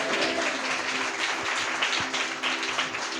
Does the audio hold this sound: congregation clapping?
yes